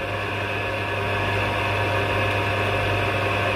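An electric motor rated at 1440 rpm on its plate spins steadily at close range, giving a constant hum with a strong low tone and even mechanical whir, with no talk over it.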